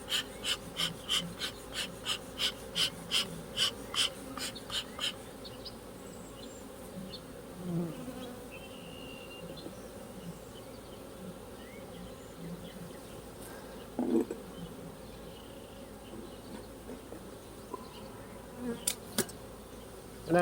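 A newly settled swarm of Russian honey bees buzzes in a steady, dense drone close by, with sharper wingbeat passes in the opening seconds and occasional single bees flying near.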